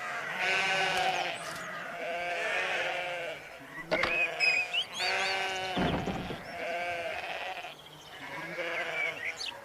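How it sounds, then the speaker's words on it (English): A field full of sheep bleats in a chorus of overlapping, wavering calls, several animals crying out one after another at moderate distance with brief gaps between. "A field full of sheep."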